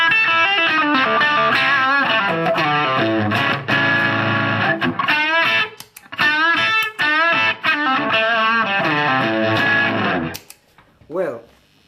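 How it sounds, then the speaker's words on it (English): Distorted electric guitar run through a Keeley Mod Workstation pedal, loud chords and riffs ringing with harmonic-rich drive, a brief pause near six seconds, then more playing ending in a short fading phrase. "You put it in here and you can push it so you've got this distortion."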